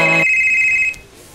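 A telephone ringtone chimes with a rich electronic tone, then drops to a thinner high beep before cutting off, close and loud, with no talking.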